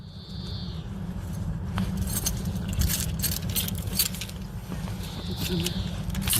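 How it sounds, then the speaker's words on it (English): Car keys jangle as they are pulled from a trouser pocket, a run of bright metallic clinks and rattles close to the microphone over rustling fabric and a low background rumble. "So I'm going in my pocket. Just car keys."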